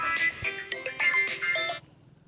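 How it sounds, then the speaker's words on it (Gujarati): A phone ringtone plays a bright, repeating electronic melody for about two seconds, fairly loud and close, then cuts off. "અહીં મને અત્યારે કોનો ફોન આવ્યો"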